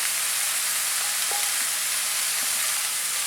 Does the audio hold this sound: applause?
no